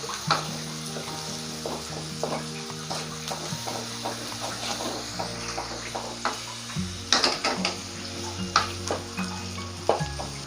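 Sautéing for spicy mint chicken after salt goes into the pan: a steady sizzle with repeated spatula scrapes and taps on metal, close and busy throughout, over a faint tonal background hum.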